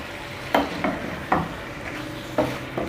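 Potato slices with green chillies and fresh coriander being stirred in a pan over a constant sizzle, with several distinct scraping strokes at irregular intervals, close by and with no talk.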